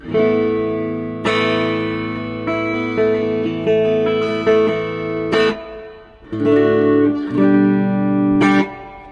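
An electric guitar plays a clean, dry tone, with sustained chords and ringing notes in several phrases that pause briefly between them, close and loud, with no talking.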